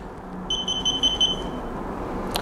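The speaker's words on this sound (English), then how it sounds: "If I switch the motors on, a little switch at the side here, you'll hear it beep." A Steadymaker Tank PLUS camera stabilizer gives a steady, moderately loud electronic beep lasting about a second as its motors switch on, over a soft background hum.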